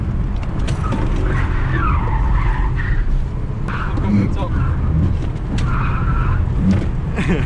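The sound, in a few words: Skoda Kamiq front-wheel-drive SUV accelerating hard, tyres gripping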